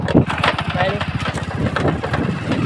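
A tractor engine runs steadily with a rough, throbbing low rumble, close and loud, while people talk over it throughout.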